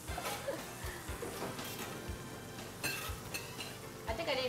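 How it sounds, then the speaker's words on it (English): Onions frying in a pan while steak is cooked: a faint, steady sizzle with repeated stirring and scraping strokes and occasional light clinks of utensils on the pan. "You know something, nothing like fried onions."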